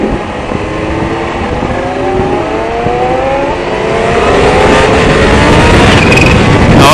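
A Kawasaki H2 motorcycle engine revs hard while the rear wheel spins, producing a loud, continuous roar with rising pitch sweeps that climbs and intensifies toward the end, heard up close without talk.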